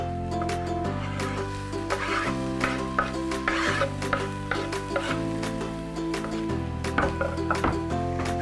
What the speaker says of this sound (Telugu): టొమాటో వేసుకుంటున్నాం.